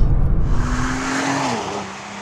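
A 2013 Nissan GT-R drives hard nearby, its loud engine roaring with a rising whine that holds steady and then eases off, with no talk.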